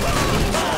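Gunfire in GTA V, a dense continuous crackle of shots and noise filling the whole moment at steady loudness, with no voices over it.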